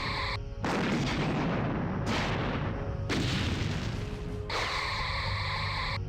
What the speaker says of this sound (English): Oh, another photon torpedo launch is gone.